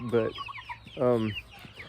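Farm chickens of a breed that lays dark red eggs give two close, clear cluck-squawks, one at the start and a longer one midway, over a quiet background.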